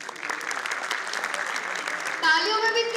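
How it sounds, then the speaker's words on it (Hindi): Steady applause from a conference audience at a developer event. It is moderately loud and continuous, and a voice speaks over the clapping near the end. "तालियों में भी इतनी एनर्जी नहीं दिख रही है"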